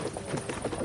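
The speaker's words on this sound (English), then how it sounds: "Whip those fucking horses" Horses' hooves clip-clop in a quick, steady run in a video game, a horse-drawn delivery wagon pressing onward, the beats moderately loud and fairly even across a brief stretch with no voices.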